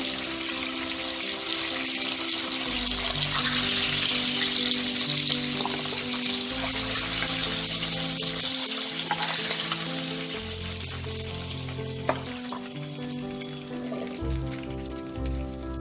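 Pieces of hilsa fish fry in oil, giving a continuous, even sizzle like light rain that stays close and moderately loud for the whole stretch, with soft music underneath and no talking.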